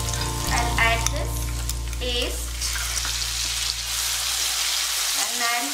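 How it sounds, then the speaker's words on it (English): Masala paste of onion, garlic and ginger with whole spices frying in a pan, giving a loud, dense, continuous sizzle with occasional spoon scrapes and faint clinks close by. "fry this masala till all the raw flavors of the masala and the onion, garlic, ginger paste are gone"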